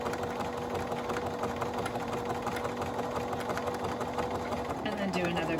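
A Bernina Activa sewing machine stitches a standard-width zigzag seam, running forward and back-stitching. Its motor gives a fast, steady rapid chatter close by, with a speaking voice over it and a pitch shift near the end.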